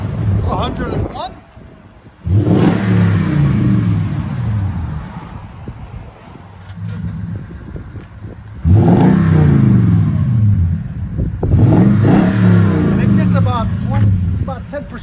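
A Toyota Tundra with a 5.7L V8 and 18-inch Magnaflow dual exhaust revs deeply in three strong bursts that drop back to idle between them. Wind buffets the microphone outdoors, and people talk throughout.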